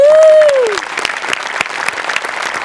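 An audience applauds after a stage performance, a dense burst of clapping following a brief tone at the start and holding steady to the end.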